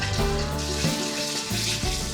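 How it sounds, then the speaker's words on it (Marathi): Masala paste frying in three large spoons of hot oil, giving a loud, close bubbling sizzle with dense spattering and no speech. "इथे तेल गरम केलेलं आहे 3 मोठे चमचे, यामध्ये घालूयात"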